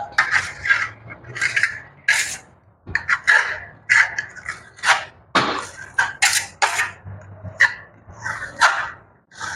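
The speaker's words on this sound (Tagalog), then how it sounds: "Yung pag-exterior na skim coat ang binili nila ay matigas lihain to." Hand sanding of a hard exterior skim coat on a wall gives short, repeated rasping scrapes in an uneven rhythm, close and fairly loud, with brief pauses between strokes.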